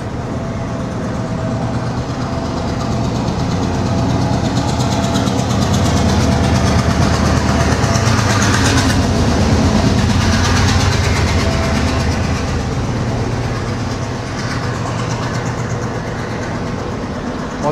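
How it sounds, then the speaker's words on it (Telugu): An old train idling at a railway station on the Colombo to Kandy line in Sri Lanka, its engine producing a loud, steady diesel rumble and throb that swells slightly midway, close by, with no talking. "ఈ ట్రైన్ చూడండి, ఇదేదో పాత ట్రైన్లా ఉంది."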